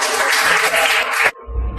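Audience applause, a dense burst of clapping from a crowd in a classroom or presentation setting, steady for over a second before cutting off abruptly.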